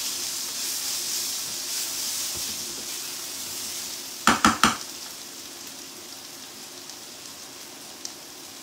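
Onions frying in a pan with a constant soft sizzle, broken midway by three quick, loud knocks of a spoon against the pan, then a single faint tap later.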